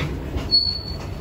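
A long train rolling past at close range, a steady low rumble of cars on rails with a thin high wheel squeal rising briefly in the middle.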